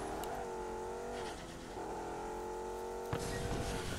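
A race car in the Race Max Pro video game revs and accelerates on nitrous, its engine note rising and shifting through several gear changes in a steady, fairly quiet roar, with a brief sharp thump near the end.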